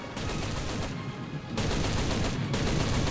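A 7.7 mm machine gun fires from a Japanese Chi-Ri II tank in the War Thunder video game. The gun fires in long, loud, continuous bursts, with a brief break and a quieter stretch between them.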